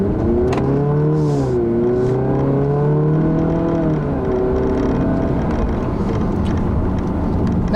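A 2015 Chrysler 200 with the 4-cylinder engine and 9-speed automatic drives on the road, its engine note rising and falling through shifts, steady and loud from inside the cabin.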